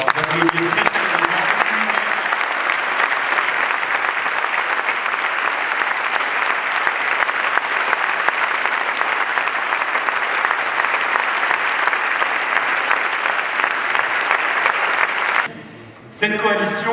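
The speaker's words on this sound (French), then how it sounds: "Je vous demande une nouvelle fois d'applaudir très chaleureusement." Sustained, loud applause from a large audience at a political party congress, a dense wall of clapping that holds steady for the whole stretch before cutting off abruptly near the end, with some talk briefly heard.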